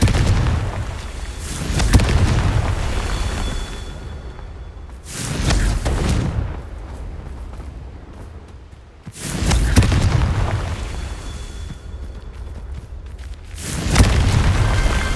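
Confringo blasting spells go off in Hogwarts Legacy, a series of deep booming explosions a few seconds apart, each with a rumbling tail that fades before the next burst.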